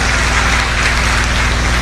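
A large audience claps at a poetry recital, a loud, dense and continuous roar of many hands with no voices over it.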